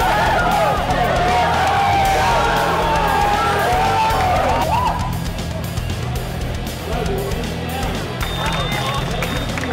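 Spectators at a robotics tournament cheer and shout for Team 1138, a sustained, boisterous roar of many voices that swells early and then eases slightly while staying loud and close.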